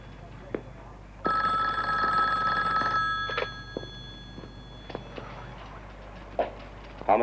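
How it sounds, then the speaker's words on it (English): Old-style telephone bell ringing indoors in a police homicide office, one loud sustained ring of about two seconds followed by a few faint clicks and knocks. "Savage, answer the phone."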